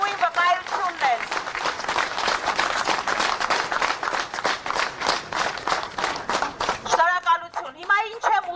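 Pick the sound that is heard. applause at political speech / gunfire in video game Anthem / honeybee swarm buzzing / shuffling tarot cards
applause at political speech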